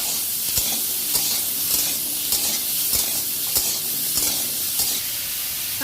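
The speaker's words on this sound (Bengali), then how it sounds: "আলু কুমড়ো দিয়ে দিয়েছি এবার লবণ দিচ্ছি এগুলো ভালো করে ভেজে নেবো" Potatoes and pumpkin with salt frying in a pan, a steady loud sizzle with regular stirring scrapes about every half second throughout, no voices.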